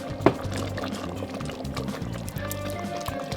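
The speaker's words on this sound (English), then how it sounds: "I'm making a slurry of potato starch and water." A slurry of potato starch and water is poured bit by bit into a pot of curry, a soft close trickle and glug with a faint sizzle and simmer underneath.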